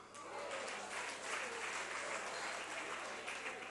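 Audience clapping steadily through a South African finance minister's medium term budget speech, a dense, fairly faint wash of applause with no voices on top.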